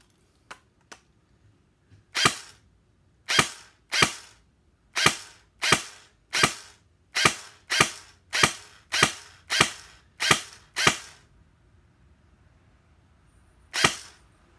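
A Classic Army M4 MK16 airsoft gun fires single rounds as a series of about a dozen sharp, close, loud pops at roughly even spacing, with a few faint clicks before them and one last shot after a pause.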